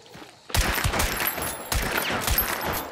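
Gunfire in the video game Hunt: Showdown: two loud, sharp shots about a second apart, each with a long reverberant tail over a quiet background.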